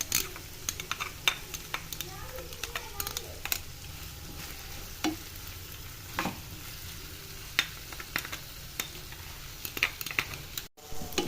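Chicken and tomato with ketchup cook in a pan, a soft, steady sizzle broken by frequent clicks and scrapes of stirring.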